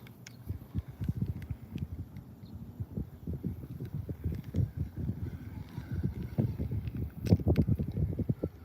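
Wind gusting over a backyard pond, buffeting the microphone with low, rumbling bursts that rise and fall continuously across the whole stretch, with no voices.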